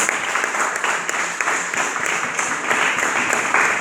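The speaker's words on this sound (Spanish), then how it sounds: "Vamos a dar un fuerte aplauso a Dios, mis hermanos" Loud, sustained applause fills a church as the congregation claps together, dense and even for several seconds without talk over it.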